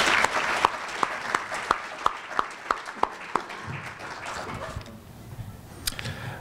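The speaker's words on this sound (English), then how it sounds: "Let's give our new board members a round of applause." An audience at a chamber of commerce monthly luncheon gives a round of applause for new board members, with a few sharp, evenly spaced claps standing out over the softer patter before it trails off.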